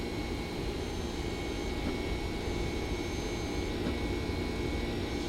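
A Boeing 767-300 jet's engines roar steadily through a takeoff roll in the X-Plane 10 flight simulator, a constant broad rushing whine at moderate level with no pauses and no talk.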